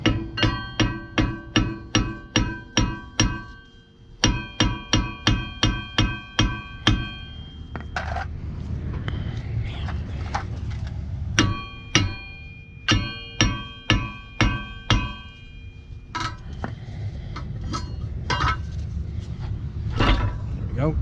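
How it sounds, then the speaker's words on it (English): Metal hammer blows knocking a Ford Transit rear axle loose: a fast run of sharp, ringing clangs, a brief pause, then more bursts of strikes over a steady background hum, close and loud. "Might need a hammer to bang it loose."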